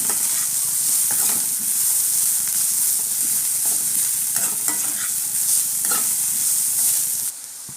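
Sliced bitter gourd being stirred and fried in a pan with salt, a steady close sizzle and hiss with scraping stirring strokes throughout, cutting off abruptly near the end.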